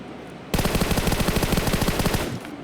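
Rapid automatic gunfire from PUBG mobile gameplay, a loud sustained burst of closely spaced shots lasting about two seconds after a short quiet start, then cutting off.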